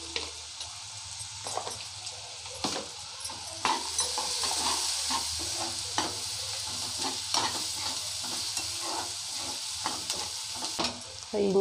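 Ingredients for a Tamil quail curry, with turmeric and ginger paste, sauté in hot oil. A steady close sizzle runs throughout, broken by repeated scraping stirs and light clinks of utensil on pan, with no voices.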